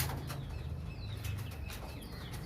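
A pigeon beats its wings in a steady, fluttering whoosh close by, with faint bird calls in the background.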